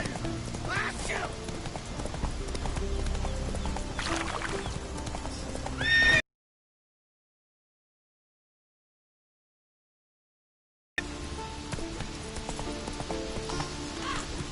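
Horse galloping and neighing in the video game Witcher 3, with a clear whinny and clip-clop hooves over game sounds, broken by a stretch of silence midway.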